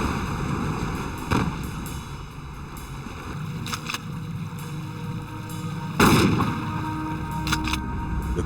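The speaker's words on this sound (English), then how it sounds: "Thomas then ordered Jerry to sink the cooler by firing slugs into it." Shotgun slugs are fired into a floating cooler on the water: several loud, sharp reports spaced a few seconds apart, heard over a constant wash of water and boat noise.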